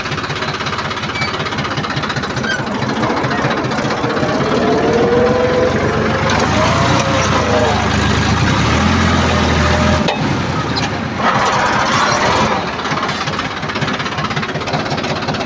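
A heavy diesel tractor engine idles steadily with a rough, knocking chug, loud and continuous throughout with no voices.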